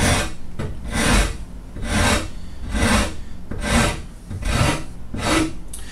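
A wood rasp carving a guitar neck clamped in a freestanding vise gives six even, raspy strokes about one second apart, each a broad scraping push, close and steady with no talking.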